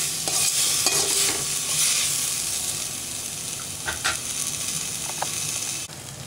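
Tomato and sambar powder cook in a pan for a manathakkali keerai kuzhambu, a steady close sizzle marked by several sharp scrapes and clatters of a stirring spoon, easing slightly toward the end with no talk.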